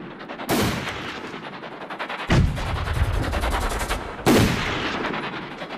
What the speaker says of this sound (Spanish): Cuando listos, pueden disparar.